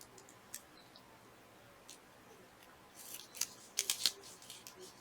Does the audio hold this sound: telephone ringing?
no